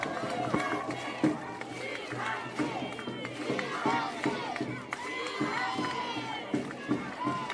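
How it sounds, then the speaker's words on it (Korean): An outdoor campaign rally crowd at Noeun Station Plaza in Daejeon cheers and shouts loudly for a People Power Party candidate, a busy roar of voices with bursts of clapping, and people talk over the din. "큰 박수 부탁드리겠습니다."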